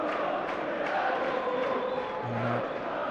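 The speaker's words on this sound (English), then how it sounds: "the Preston crowd in good voice" Preston North End fans sing and chant steadily in the stadium during a Championship match against Leeds United. The sustained crowd roar has a brief tonal note partway through.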